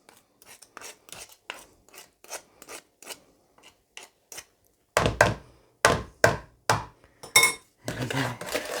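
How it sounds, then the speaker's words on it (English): A spatula scrapes coconut sponge mixture from the sides of a food processor bowl in a run of short, rasping strokes. The early strokes are light and quick, and the later ones are louder and longer, heard close with no talk. "Let's just scrape that off there."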